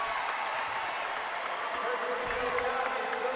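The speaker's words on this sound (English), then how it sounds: "we're in front of a packed house. This is a really good crowd." A packed house of basketball fans at a boys' high school playoff game between Edinburg Vela and Los Fresnos creates a constant, fairly distant crowd murmur with scattered claps and shouts, and voices talk over it.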